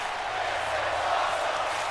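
A WWE 2K22 arena crowd roars in a steady, broad wash of cheering and noise for about two seconds, fairly loud and continuous.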